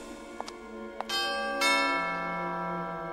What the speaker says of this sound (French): Archaïque la sonnette.